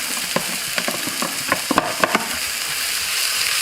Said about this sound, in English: Then we're going to start to cook out the spices, chipotle paste, with our onions, garlic and peppers.